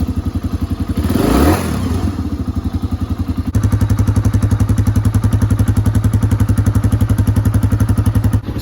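A dirt bike engine idles steadily after an air filter change, with a chugging, even putter close by and a brief throttle blip near the start, then a louder, firmer idle running alone.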